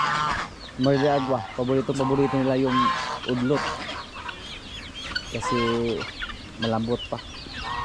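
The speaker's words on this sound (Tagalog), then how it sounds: "Yung ating mga gansa." Geese and chickens at a rural farmyard in the province give loud, repeated honking and clucking calls in bursts, close by, with people talking over and between them.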